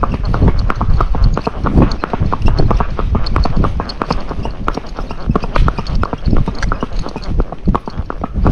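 A barefoot Fox Trotter horse ridden down a road, its hooves clip-clopping in a quick, even gait, loud and close throughout with steady rhythmic beats.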